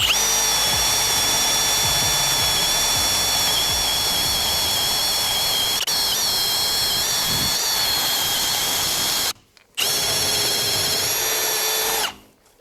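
A Milwaukee M18 FPD2-502X cordless drill-driver runs in first speed with a steady high whine, loud and close, cutting out briefly once before spinning up again and then stopping.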